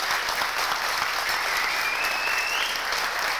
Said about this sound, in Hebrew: מגיע לו מחיאות הכפיים.